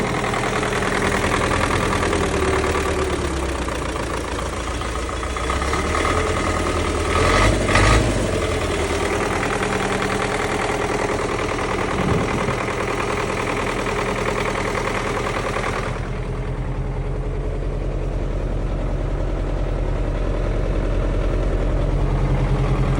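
A farm machine engine idles steadily at close range with a low, continuous rumble, briefly rising once before settling into a quieter hum.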